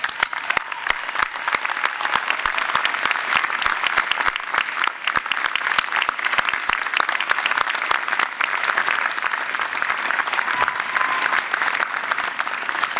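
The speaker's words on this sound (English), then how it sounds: "Let's give them a huge round of applause" A large convocation crowd gives graduates' supporters a long round of applause, loud, dense and continuous clapping with crisp individual claps popping through, sustained without a break.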